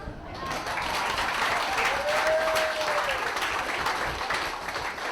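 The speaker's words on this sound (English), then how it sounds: "one last round of applause for Morgan St. Jonas." Audience applause at the close of a speech, a dense, steady wash of clapping that holds at a strong level throughout, with a brief rising and falling whistle in the middle.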